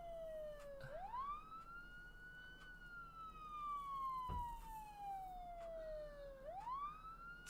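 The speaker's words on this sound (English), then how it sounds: "even though the siren's going, they seem to have lost interest" A wailing emergency siren in Project Zomboid rises and falls in long sweeping cycles, loud and continuous, with a faint thump midway and no talking over it.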